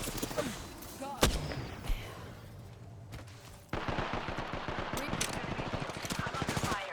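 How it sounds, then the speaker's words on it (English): Gunfire in the video game Apex Legends, with a sharp shot and scattered bursts early on, then a sustained rapid automatic volley over the last three seconds, loud and dense. "I'm under fire."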